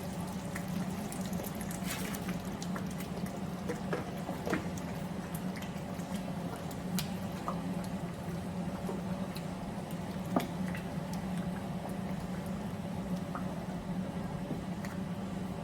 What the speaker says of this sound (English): I'm going to add in the meat now and then leave it to cook till it's ready